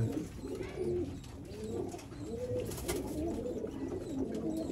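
Teddy pigeons coo in a steady series of soft, rolling low calls, several birds overlapping at close range with a faint background murmur and no talking.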